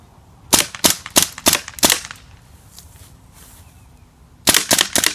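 Umarex Legends blowback P08 Luger air pistol firing five sharp, evenly spaced cracking shots, a pause, then another rapid string of shots, each snapping loudly and cleanly with a quick metallic blowback clack.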